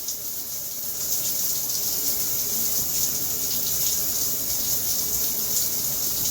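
Water runs steadily from a bath tap in a hotel room, a continuous close hiss and gush with no breaks and no talk.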